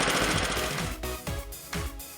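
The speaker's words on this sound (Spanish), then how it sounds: "Y por fin, aunque con algo de humo, ya nuestra cortacésped arranca." Small petrol lawn mower engine, smoking after failed start attempts, catching and running with a loud, rough, rapid chattering drone and a few uneven surges.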